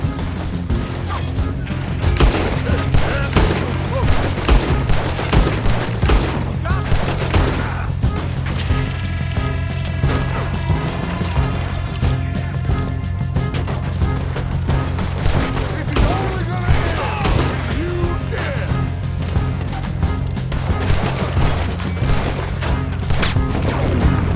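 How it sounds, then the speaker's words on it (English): Repeated gunfire in a Red Dead Redemption 2 shootout, with loud dense volleys and scattered shots crackling continuously over a busy mix, with voices calling out at times. "Just keep shooting till nothing moves."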